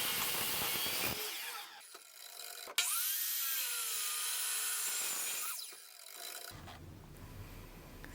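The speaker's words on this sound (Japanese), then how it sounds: "まずは余っていたヒノキの板をカットしていきます。" A slide compound miter saw cuts a leftover hinoki cypress board at a 45-degree angle. The blade whines up, bites through the wood in a steady rasping cut, and ends with a sharp click, then a quieter tool noise follows.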